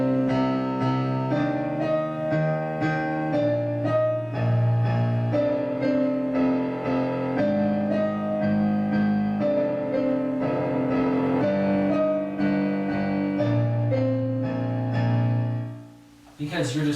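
Piano plays a steady flowing passage of chords and melody, close and moderately loud, ending with a brief fade near the end.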